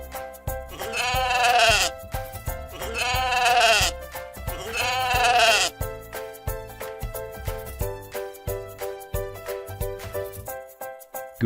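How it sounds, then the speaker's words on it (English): Sheep give three loud, wavering bleats in a row over light background music, and then only the music carries on. "Sheep."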